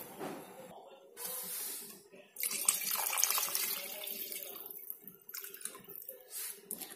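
Water poured from a bowl into a pot of browned mutton paya, a splashing, rushing pour that starts, pauses and resumes in bursts over several seconds, close and moderately loud with no speech.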